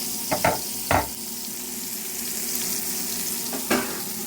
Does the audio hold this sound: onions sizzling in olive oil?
yes